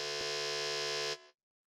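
A loud, steady electronic quiz buzzer sounds alone for about a second during a school quiz show, then cuts off abruptly.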